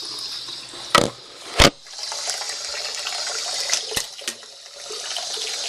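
Tap water runs steadily to fill a basin with warm water for washing BDU uniforms, a continuous hiss broken by two louder splashes or knocks near the start and a couple of sharper clicks later.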